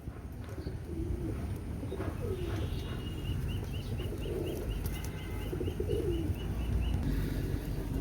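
Pigeons coo in low, soft repeated calls at moderate distance, with a run of faint high chirps and a steady background hum.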